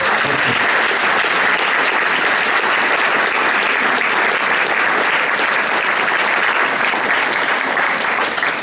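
Sustained audience applause at a conference in Arlon, dense and even throughout, loud and close with no pauses.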